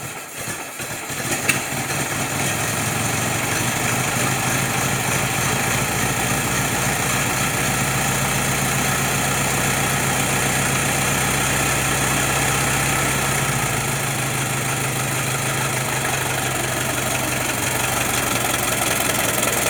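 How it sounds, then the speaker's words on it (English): A 1915 Ford Model T engine inside a steel building catches with a few sputters after the foot starter, then runs at a steady, loud, rumbling idle that echoes slightly. "I'm going to try and start it again using the foot starter"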